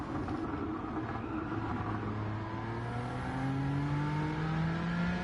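A car engine in a racing video game revs steadily upward, a loud, continuous whine that climbs in pitch through the gears, with no voices over it.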